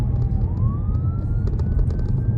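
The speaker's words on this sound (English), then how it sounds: "There's an ambulance coming." An ambulance siren wails steadily in the background, its pitch gliding upward, over a constant low rumble of traffic.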